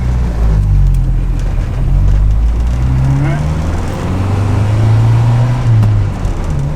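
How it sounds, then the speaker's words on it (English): Jeep YJ Wrangler engine pulling under acceleration from inside the cabin, a loud low drone rising in pitch through a gear change and climbing again, with road noise throughout. "See how fast this thing will accelerate for us."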